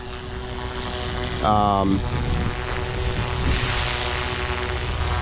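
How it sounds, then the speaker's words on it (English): An Align T-Rex 300X small RC helicopter flies with a steady high-pitched rotor and motor whine that holds through the whole stretch, while someone talks over it. "It's one of those little helicopters that I feel like flies like a larger helicopter."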